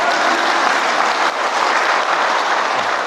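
A church congregation at a Catholic Holy Spirit prayer gathering claps in loud, steady applause that fills the room evenly for a few seconds, with no talk over it.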